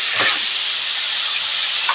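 Chicken liver sizzling in a hot pan while being sautéed, a loud, continuous close hiss of frying with faint stirring clatter.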